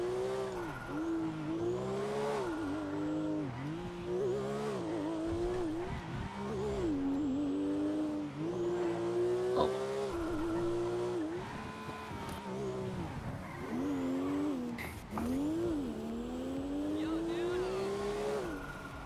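Car engine revving and driving in GTA 5 roleplay, a sustained loud engine tone rising and falling with repeated acceleration sweeps throughout, with occasional speech over it.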